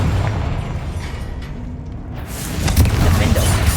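A Confringo fire spell from the wizarding game Hogwarts Legacy bursts into a heavy, rumbling blast, with a low boom that swells and grows louder toward the end over steady background noise.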